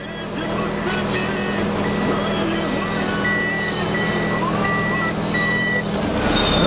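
A Toyota Noah G Package seven-seat MPV in reverse gives a steady series of short, evenly spaced warning beeps over a low background engine hum.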